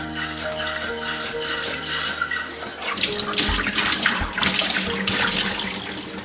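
Water sloshing and splashing inside a glass carboy being shaken for rinsing, starting with a faint hum before bursts of loud swirling, gurgling liquid.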